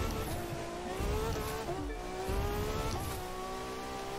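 A Maserati MC12 Version Corse in The Crew 2 runs with a steady, droning engine note whose pitch rises and dips as it revs, continuous and fairly close, with light tire noise underneath.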